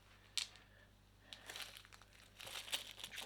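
Plastic bags from a PR SC201 model kit being opened and handled up close, with soft crinkling and rustling, a few sharper crackles, fairly quiet and with no talking.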